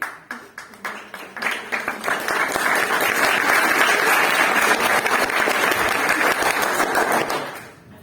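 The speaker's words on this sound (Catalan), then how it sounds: "Un aplaudiment pel Martí." A classroom of secondary-school students applauds, the claps starting sparse and building quickly into steady, dense clapping that fills the room before tapering off at the end.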